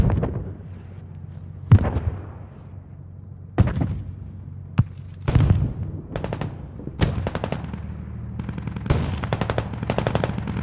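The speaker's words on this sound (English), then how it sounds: "Okay, mortar, hold fire." Mortar rounds firing in the military game Squad on the Fools Road map, as sharp, booming reports spaced a second or two apart, with a cluster of rapid blasts toward the end.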